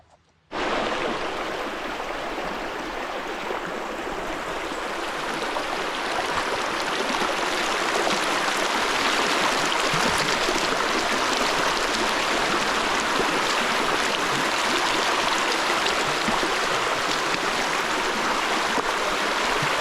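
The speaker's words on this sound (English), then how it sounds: "We got an overlander out here doing a water crossing." A longbed Toyota Tacoma overlanding pickup fords a water crossing in the Ozarks, bringing a loud, continuous churning rush of splashing water that starts abruptly and holds steady throughout, with no talking.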